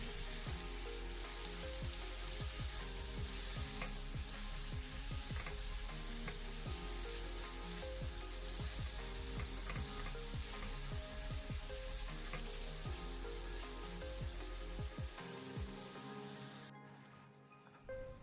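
Sliced banana sautéing in melted butter in a non-stick pan, a steady close sizzle with crackling pops and occasional stirring scrapes, continuous before cutting off near the end, no voices.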